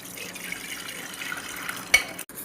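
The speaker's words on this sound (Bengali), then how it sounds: "এবার এটা আমি ঢেলে দেবো এটাতে, দইয়ের মধ্যে।" Warm milk poured into curd for Bengali mishti doi, a soft, steady liquid trickle that stays faint and close, with no voices.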